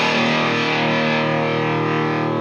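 An electric guitar played through a distortion pedal rings out as one loud, sustained, heavily clipped chord with a dark tone and audible noise, played alone with no voice.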